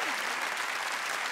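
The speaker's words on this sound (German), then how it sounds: "Habt einen großen Applaus verdient." Audience applause in a fifth-grade classroom quiz game, a dense, steady burst of clapping from a group of children, loud and close throughout the brief moment.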